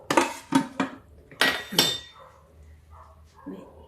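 A spoon stirs tamarind chutney in a bowl, making several crisp metallic clinks and scrapes in two quick bursts, followed by quieter soft stirring.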